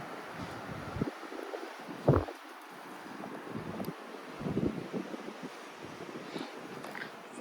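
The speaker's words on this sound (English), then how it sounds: "It's windy today." Gusty wind buffeting the microphone outdoors on a balcony in the Drakensberg, low rumbling bursts coming and going over a faint airy background.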